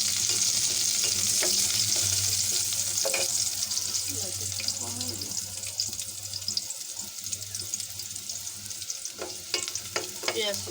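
Onions frying in a pan with cinnamon, bay leaf, cloves, pepper and cardamom, for a beef curry, give a steady close sizzle with scattered stirring scrapes and clinks throughout.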